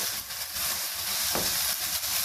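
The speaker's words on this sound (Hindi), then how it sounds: "इसको अच्छे तरीके से भूनें।" Chicken, potato, onion and tomato masala fries in a pan with a steady, close sizzle and hiss throughout, with a brief stirring scrape midway and no talking.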